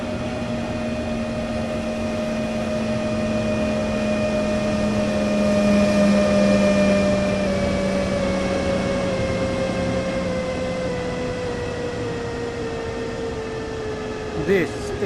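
A train approaches on the Main-Spessart Bahn in Train Sim World, a steady droning electric hum with tones that slowly slide lower, rising a little then easing, ending in a brief clunk.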